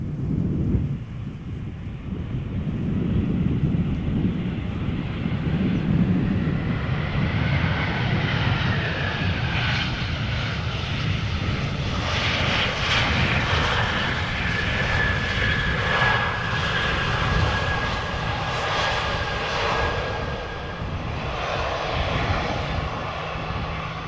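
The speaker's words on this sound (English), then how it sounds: "Hope they wait with departure until the A330 has landed." An Airbus A330 comes in to land at Amsterdam Schiphol Airport, its loud engine roar and rushing noise building and holding steadily for the whole stretch with no talking.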